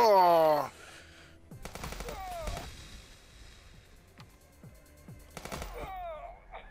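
Gunfire in the police shooter game Police Stories: sharp single shots and short rapid bursts crack out in two clusters over a low background, with a brief voice at the start.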